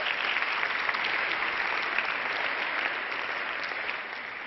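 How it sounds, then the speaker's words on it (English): Audience applause at an UNCTAD Women in Business award ceremony, dense and sustained clapping from a full room, loud and even throughout before easing slightly at the end. "an applause for her"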